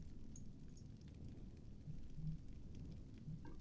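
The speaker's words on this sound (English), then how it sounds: "It should not be raining inside." Steady rain falls and drips inside a building in the Conan Exiles survival game, a faint, even wash of patter with low rumbling underneath and no break throughout.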